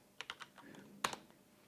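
Quick keystrokes on a computer keyboard as a command is typed at a terminal, a short burst of three taps, a pause, then a sharper cluster of clicks, close and fairly quiet.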